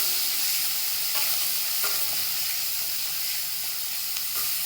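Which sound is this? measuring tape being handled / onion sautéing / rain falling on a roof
onion sautéing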